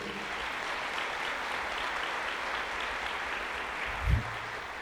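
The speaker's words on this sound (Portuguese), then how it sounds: "Você pode aplaudir a Jesus aí?" A church congregation at a Sunday morning service applauds in a soft, even patter that stays fairly quiet and distant throughout, with a short low thump near the end.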